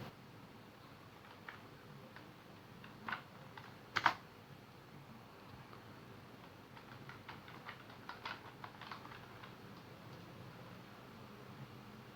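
Faint, sparse keystrokes on a computer keyboard typing a word into MS Word, with a few louder taps and short clusters over a quiet room hiss.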